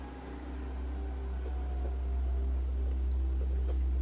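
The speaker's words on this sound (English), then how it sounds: "sorry about the fan in the background" A room fan runs steadily in the background with a constant low whir and hum, slowly growing a little louder, with faint scattered ticks and no voices.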